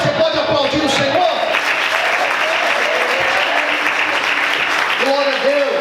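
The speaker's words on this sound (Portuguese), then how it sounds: "Você pode aplaudir o Senhor?" A church congregation applauds together during a Sunday morning service, a steady, dense clapping throughout, with a few brief voices calling out near the start and end.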